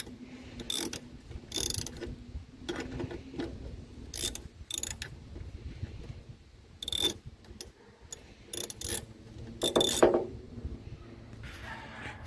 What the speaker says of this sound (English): that's how you can use the 10 mm socket and the ratchet to open it up